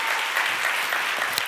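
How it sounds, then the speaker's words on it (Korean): Steady, dense applause from a church youth service congregation, clapping continuously at an even level with no voices standing out. "다시 한번 뜨거운 박수로 격려해 주시기 바랍니다."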